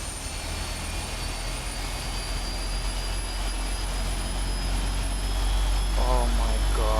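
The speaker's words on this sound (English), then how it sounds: "Alright, we can start the engines now." A simulated PMDG 777 jet engine spools up in Microsoft Flight Simulator, giving a steady, rising turbine whine and rumble with a high tone. A voice breaks in briefly near the end.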